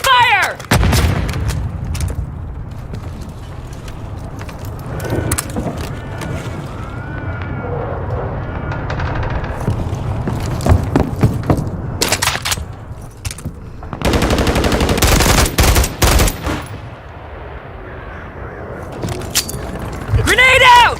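Gunfire in the Call of Duty Modern Warfare III video game: bursts of machine gun fire and scattered shots, plus booming explosions and a sustained heavy barrage, with voices calling out throughout.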